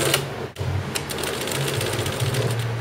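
A sewing machine driven by a foot pedal stitches pleated fabric at a public sewing house, a loud, fast rhythmic mechanical whirring that stops briefly and then runs on steadily.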